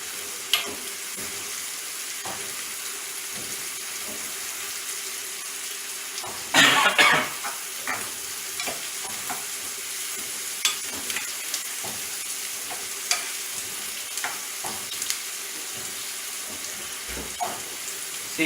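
Chopped onions sizzling in a pan for palak paneer curry, a steady frying hiss with scattered scrapes and knocks of stirring and one brief louder burst of splashing, close and free of speech.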